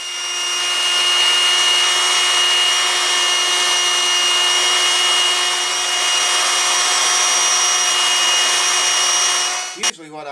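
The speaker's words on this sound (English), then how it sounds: "use this or some kind of sander, sand it down to the vise" A power sander grinds steadily against a guitar saddle from a Washburn guitar, holding a loud, even whine for about ten seconds before cutting off abruptly.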